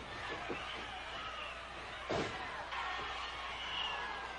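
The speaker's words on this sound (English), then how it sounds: "Dick Murdoch has just knocked Barry Windham from the ring." Crowd at a 1987 NWA pro wrestling match reacts as a wrestler is knocked out of the ring, a steady roaring arena din with one heavy thud partway through.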